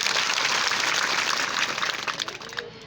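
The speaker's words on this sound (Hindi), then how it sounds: "जरा उनके लिए ताली बजाओ जोरदार" An outdoor crowd at a ground-breaking ceremony gives a burst of loud, dense applause, many hands clapping together before the noise thins and fades out over the last second.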